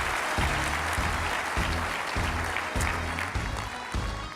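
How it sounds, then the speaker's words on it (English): An audience at a business conference applauds steadily and fairly loudly for the whole stretch, a dense wash of clapping with no break. "Give him a nice round of applause"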